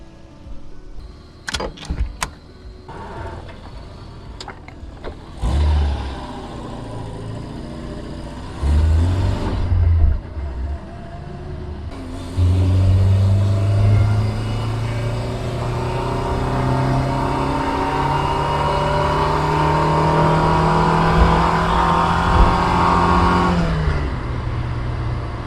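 A 1979 Opel Kadett C with a freshly swapped 1.2 engine cranks, catches and idles, then revs up several times with rising and falling pitch before settling into a steady, loud close-up running drone.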